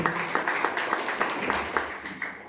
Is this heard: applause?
yes